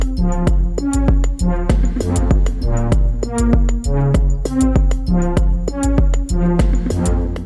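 A Melbourne Instrument Nina synthesizer plays a synth lead pad part, its rhythmic repeated notes pulsing in a steady pattern over a deep bass layer, loud and continuous with no speech.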